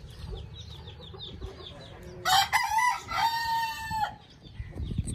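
An Aseel hen at a home setup cackles and clucks loudly in a harsh burst of repeated calls, set against background chatter of other fowl, with a rooster-like crow mixed in.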